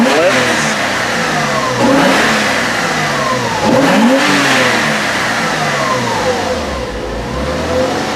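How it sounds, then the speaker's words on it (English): Porsche Boxster engine held at a steady mid-range rev around 2500 RPM during a coolant change, with repeated rising and falling surges that stay close and loud with no voices. "So we're just going to hold it at around 2500 RPM like they say."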